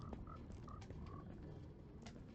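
Frogs croak in Minecraft, short tonal calls repeating at irregular intervals over a steady low background rumble of the game.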